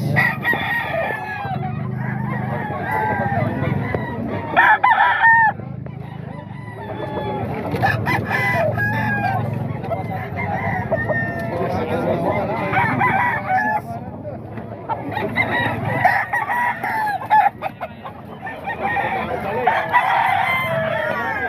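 Several roosters crow repeatedly, loud and close, with clucking fowl around them and occasional voices underneath.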